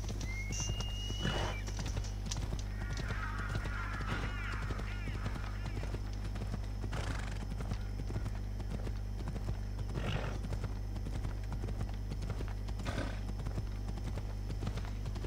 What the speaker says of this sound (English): My horse isn't in the mood for running, apparently.